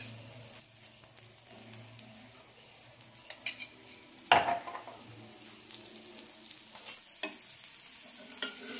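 Horse gram dosa frying in oil or ghee on a hot pan, a steady soft sizzle running throughout with one sharp clatter midway and light scraping and tapping of a utensil.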